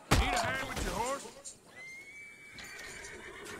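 A horse whinnies in the video game Red Dead Redemption 2, one loud close neigh at the start that trails off, followed by quieter ambient game sounds.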